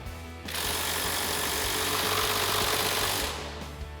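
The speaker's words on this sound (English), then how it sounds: "we're going to grab our 17 millimeter swivel socket and extension on our impact" An impact wrench fitted with a 17 mm swivel socket and extension spins off the sway bar end link nuts. It gives one loud, continuous rattling burst of about three seconds that starts and stops abruptly, with a low hum underneath.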